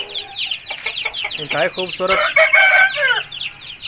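Thai cross Aseel rooster, a two-time winner, clucks in a run of sharp, close calls with a drawn-out crow-like cry, while someone speaks over the bird.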